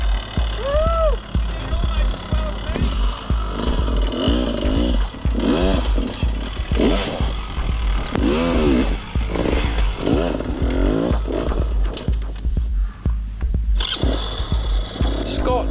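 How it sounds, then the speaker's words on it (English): A KTM 200 enduro motorcycle rides an off-road cross-training course, its two-stroke engine revving and rising in repeated bursts close by, with a brief higher whine near the end. "Scott seems to have no trouble with the KTM 200 through here."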